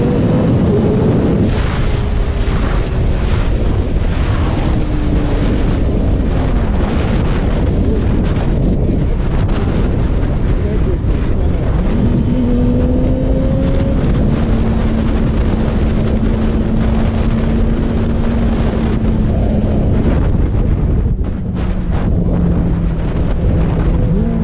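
A Yamaha R6 sport bike and a muscle car race flat out, loud continuous engine roar with rising and falling whine as gears change, heavy wind buffeting throughout.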